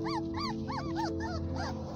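Young puppies of a blind dog whimper and yip in a quick series of high, wavering cries, close by and fairly quiet over a steady low hum.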